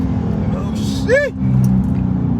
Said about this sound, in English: Boy, that car sound nasty.